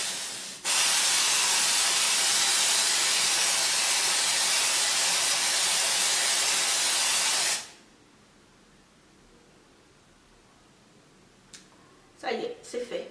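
Nocibé nail varnish sprayed from an aerosol can, nude shade, held about 15 cm away: one loud, steady hiss lasting about seven seconds, then near quiet with a few brief handling knocks at the end.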